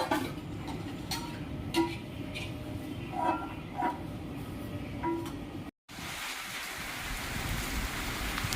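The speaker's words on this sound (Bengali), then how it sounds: "দেখো অবশ্যই বৃষ্টি এসছে" Rain falls steadily outdoors, a continuous dense patter with a few sharper drips and ticks, moderately loud and alone, with a brief cut before the downpour resumes.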